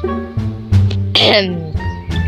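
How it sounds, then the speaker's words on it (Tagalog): A person coughs several times in quick, harsh bursts close to the microphone, with a voice heard between the coughs, during Arm Wrestle Simulator gameplay. "Excuse me, inuubo ulit ako."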